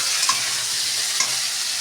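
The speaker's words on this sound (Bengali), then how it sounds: "পেঁয়াজটা একটু ভাজা ভাজা করে নিয়ে আসি" Onion frying with turmeric in a pan for a taro-leaf (kochu shak) dish, a steady broadband sizzle with two brief scraping stir strokes, close and fairly loud, no voices.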